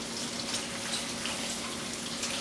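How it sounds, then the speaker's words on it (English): Salted grated zucchini is rinsed under a running kitchen sink tap, giving a steady, faint hiss of flowing water with no voices. "Now I'm going to take it over the sink and rinse it out through some."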